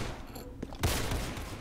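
Gunfire in the Roblox game Counter Blox, a quick burst of shots with a sharp crack near the middle, close and moderately loud.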